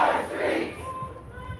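A large protest crowd of several hundred people outside a Binghamton bar roars and shouts together in one brief, loud swell that fades quickly.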